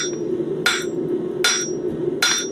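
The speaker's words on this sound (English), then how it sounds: "by only hammering on the one side, you are actually expanding out in all 4 directions" A hammer strikes hot metal three times at an even, unhurried pace while forging a bottle opener, ringing sharp blows over a steady background hum.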